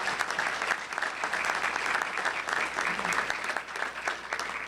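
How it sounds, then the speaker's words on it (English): An audience at a governor's education speech applauds steadily at moderate volume, a dense wash of clapping that holds evenly for a few seconds. "Let's give them a round of applause."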